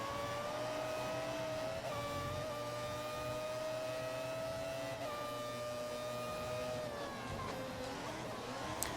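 Formula One race cars from the F1 2014 video game, 1998 season mod, lapping through the pits: a steady, loud engine whine with rising and falling pitch as gears shift, continuous throughout with no talk.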